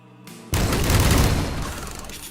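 A heavy weapon in the GZDoom-powered shooter Age of Hell fires a loud, booming blast that cuts in abruptly after a quieter lead-in, then rolls into a dense, rumbling tail that slowly fades.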